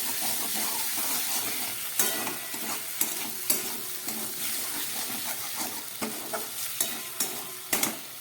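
Chopped tomatoes and two green chillies frying in onion, ginger and garlic paste, a continuous close sizzle broken by frequent rhythmic spatula scrapes and clacks in the pan, with no talk.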